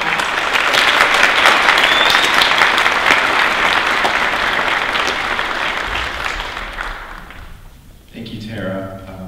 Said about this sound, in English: So you give him a round of applause.